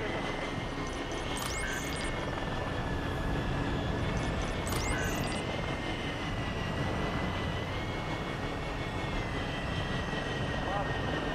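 A recon drone in the Call of Duty Modern Warfare III video game, heard as a steady airborne engine drone with a constant whine under dense background noise. It runs the whole time, with brief higher tones near the start and again midway.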